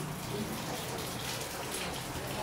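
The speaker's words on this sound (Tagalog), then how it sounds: "dinig naman dito na malakas na din yung ulan" Heavy rain from Super Typhoon Pepito, a dense, steady roar of falling water and drops hitting surfaces, close and unbroken for the whole short stretch.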